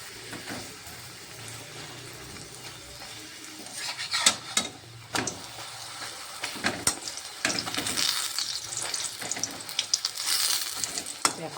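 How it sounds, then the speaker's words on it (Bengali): Paratha frying in plenty of oil in a pan, a steady soft sizzle with scattered crackles and scraping clatter that grows busier toward the end. "চলো পরোটা ভেজে নিই আমি"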